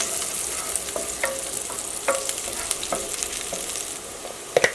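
Turmeric powder is stirred into oil in a hot pan, giving a steady light sizzle broken by repeated scraping and stirring strokes, close and alone.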